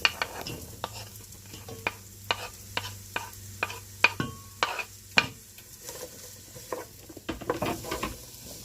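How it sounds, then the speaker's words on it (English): Onion sizzling in hot oil in a pot for vegetable soup, a steady close fry under a series of sharp utensil clicks and scrapes against the pan, with no voices. "the oil is ready, the onion is sizzling"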